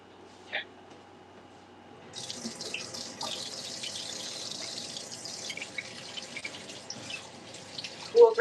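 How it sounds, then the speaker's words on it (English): Kitchen tap turned on during meal prep with chicken, a brief clunk followed by water rushing steadily into the sink, close and fairly loud, ending with a louder splash or knock. "We'll turn on the water."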